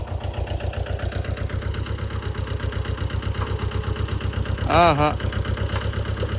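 A farm tractor stuck in a field idles with a steady low, rhythmic engine chug throughout, close and loud, with a brief higher whine near the end and a voice speaking briefly over it.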